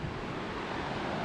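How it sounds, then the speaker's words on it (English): Tide waves surge onto a Bristol Channel beach in the evening, a brief, steady wash of surf mixed with wind rumble, even and moderately loud throughout. "So the tide just hammers in, stops for about a minute and hammers back out."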